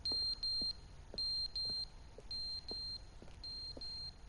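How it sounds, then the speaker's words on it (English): A video game alarm clock in The Stanley Parable beeps in repeated short bursts of high electronic tones, grouped in irregular clusters with brief gaps. The beeps are loud and close, with no talking. "What's that beeping sound?"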